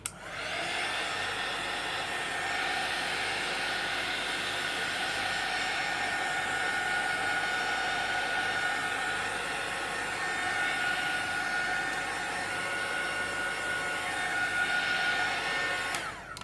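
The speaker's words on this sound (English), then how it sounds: "a little blast, I think, from my heat tool, so we can move forward" A heat tool blasts hot air across an acrylic-painted art journal page, a steady loud whooshing roar that starts abruptly, holds evenly for about sixteen seconds with no talking, then cuts off.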